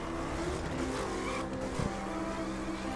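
A race car accelerating in The Crew driving game, a loud, steady engine roar that holds for a few seconds at close range with no voices over it.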